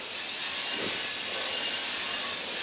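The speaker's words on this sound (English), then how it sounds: "I'm just gonna give her a spray of this stuff." A steady, loud hiss of aerosol spray running continuously on a plow, with no voices.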